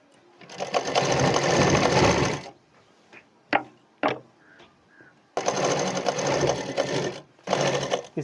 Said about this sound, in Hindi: देखिए ऊपर से सिलाई चला रहे हैं।